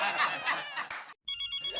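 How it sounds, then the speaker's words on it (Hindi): A phone ringtone plays in repeated electronic trills, fairly loud and close, with a short gap before a steadier ringing tone resumes. "किसका फोन है?"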